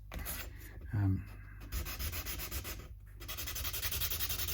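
Something rubs grime off the front face of the black tusk nut on a Schecter Diamond Series Omen Extreme 5 bass, giving a close, soft, steady scraping that comes in short bursts.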